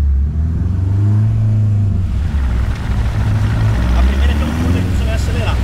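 A naturally aspirated Ford Zetec Rocam 1.6 engine runs on a dynamometer, droning loudly and steadily at high revs with a deep rumble, while people talk over it.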